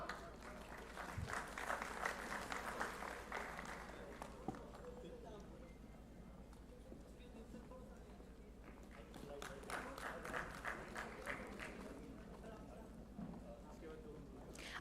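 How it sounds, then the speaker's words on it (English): An audience at a pharmacy conference at PSIT Kanpur gives a round of applause. The clapping swells in two bursts, fairly faint and roomy, and talk mixes in between. "Let's give a huge round of applause for sir."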